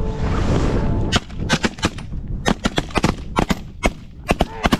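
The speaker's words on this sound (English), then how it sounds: "Hey, shoot the geese." Shotguns fire at geese during a North Dakota waterfowl hunt in snowy weather, a rapid volley of many loud, sharp blasts from several nearby guns.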